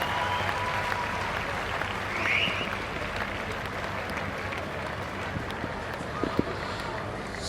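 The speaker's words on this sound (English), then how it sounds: "Big Japanese contingent of spectators have been cheering grievously" A large contingent of Japanese spectators cheers and claps at a women's rugby match between Japan and Hong Kong, a steady distant crowd roar with a brief swell, heard under wind noise on an open-air microphone.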